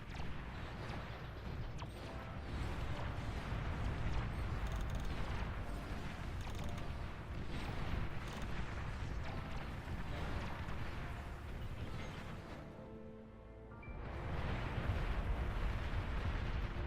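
Bombs go off throughout an RTS battle as a steady rumbling barrage of low, overlapping blasts, fairly distant and continuous, with one brief lull before the bombardment picks up again.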